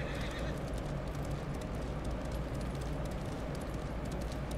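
Horse whinnying with hoofbeats in the samurai video game Ghost of Tsushima, a neigh at the start over steady, dense clip-clop of galloping hooves that continues throughout at close range.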